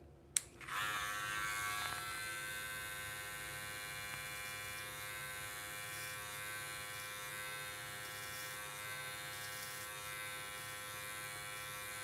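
Electric hair clippers fitted with a number one guard and the lever open, run during a self-administered buzz cut. They switch on with a click and hum steadily at close range.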